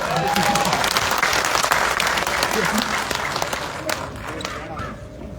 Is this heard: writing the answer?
no